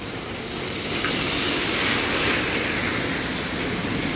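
A Puyuma Tze-Chiang express train, service 211 from Hualien on the North-link line, passes near Ruifang in the rain as a swelling broadband rushing hiss that peaks midway and stays loud, with no talk.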